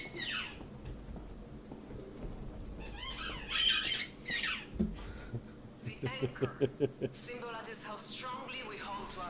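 Repeated high squeaks from a dog chewing a squeaky clown toy come in bursts, first early on and then as a quick run of sharp squeaks toward the end, mixed with a person talking and chuckling over game sounds.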